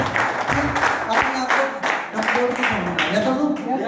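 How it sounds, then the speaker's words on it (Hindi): Loud applause from an audience at a network marketing seminar, many hands clapping in a dense rhythmic wash while a voice talks over it through a sound system. "एक जोरदार ताली हो जाए।"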